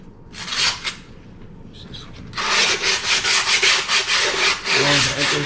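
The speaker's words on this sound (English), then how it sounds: "Give her a good old sand down." Abrasive rasping along the edges of skateboard grip tape, starting in short scrubbing bursts and then running as steady back-and-forth strokes, loud and close, with no talking.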